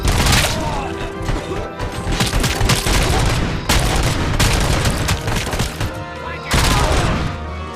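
Gunfire in the video game RoboCop: Rogue City, loud and close, with dense bursts of rapid shots and crashes that break off briefly and then resume.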